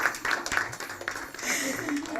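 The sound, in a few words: graduation audience clapping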